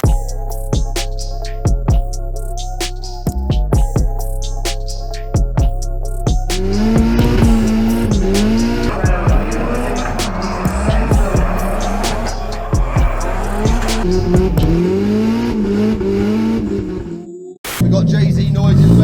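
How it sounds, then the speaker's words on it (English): Toyota 1JZ engine swapped into a Volvo V50 revs loudly and repeatedly, with rising and falling pitch sweeps and sharp throttle blips, ending in a brief cut before the engine returns; people talk over it at times. "we're going to give you a little bit of 1JZ sounds because it'd be rude not to"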